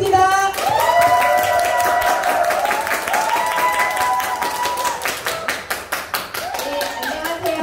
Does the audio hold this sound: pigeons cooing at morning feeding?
no